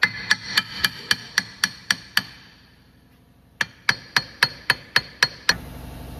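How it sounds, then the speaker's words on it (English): Sharp metal-on-metal hammer strikes pound a rusted rear brake drum on a Lexus RX350, about eight steady blows, a pause, then another quick run of about eight ringing hits, loud and close. "we just have to just keep beating this thing basically with the hammer a little bit and try to shock it off"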